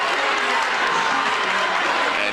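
Home crowd at a Lorain vs. Avon boys' high school basketball game roars steadily, a dense wash of cheering and shouting that holds loud and unbroken throughout.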